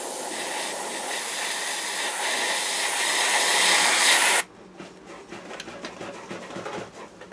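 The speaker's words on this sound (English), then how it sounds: "So now you use airbrush in your chosen colour." White paint hisses steadily from an airbrush over a stencil on a model vehicle's turret, a continuous broadband spray lasting about four seconds and swelling slightly before cutting off abruptly into quiet room noise.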